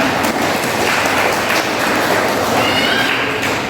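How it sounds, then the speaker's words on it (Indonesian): An audience claps at a religious study gathering, a busy, fairly loud patter of hands that runs the whole time, with a faint murmur of voices underneath. "Tepuk tangan dikerjakan semuanya."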